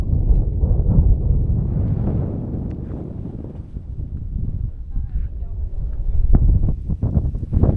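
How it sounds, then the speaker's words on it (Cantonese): Strong gusty wind near the summit of Hehuan East Peak in Taiwan buffets the microphone with loud, low roaring rumbles that rise and fall, while a person talks at intervals over it. "呢啲地方都係大風噶啦，山上邊"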